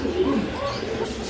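Pigeons coo loudly and close in a short burst, with soft rolling calls over a little background noise.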